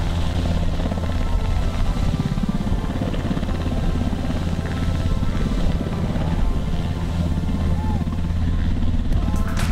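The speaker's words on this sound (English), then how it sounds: "Coast Guard helicopters are specialized air transport vehicles designed to serve the work of maintaining security and order, search and rescue at sea." Coast Guard helicopter flying, a steady dense rotor and engine drone that stays loud and constant throughout with no voices.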